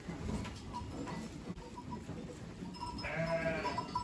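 A sheep and her lamb on a farm give a short, fairly close bleat near the end, over steady rustling and background noise, with no voices.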